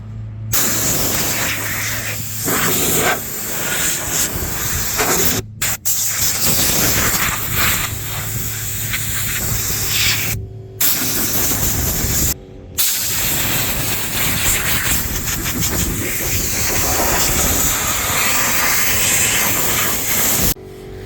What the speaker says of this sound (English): I would take the cowl off and just kind of blow all this gunk out of here.